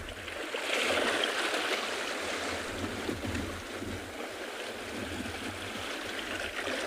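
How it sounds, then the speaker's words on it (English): Cold Atlantic Ocean waves wash over ancient granite boulders beside a seal colony in South Africa, giving a continuous broad roar of surf and rushing water with some wind buffeting, steady and fairly loud throughout. "Just taking in the Atlantic Ocean, nice and cold"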